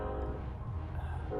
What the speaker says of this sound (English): Fucking trains, man.